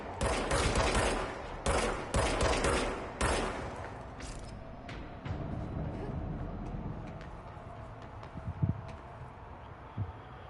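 The shape-shifting service weapon fires in the video game Control: several loud, close bursts of shots in the opening seconds, then quieter scattered cracks and distant impacts over a rumbling game background.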